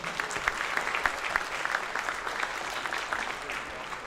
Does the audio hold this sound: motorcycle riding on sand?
no